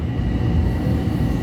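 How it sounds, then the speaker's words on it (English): A New York City subway train pulls out of the 161st Street–Yankee Stadium station, a loud, steady low rumble of wheels and car noise heard from inside the car. "Train is leaving, departing the station."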